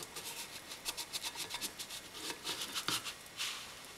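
A utensil scrapes around the edges of a cooking crêpe in a pan, giving quick, repeated short scratchy strokes up close, fairly faint and steady, with no speech.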